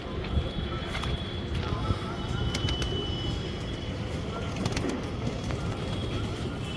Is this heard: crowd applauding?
no